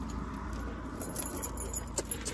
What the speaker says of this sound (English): I got to grab my keys out